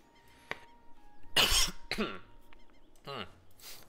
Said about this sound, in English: Oh, sorry, had to cough.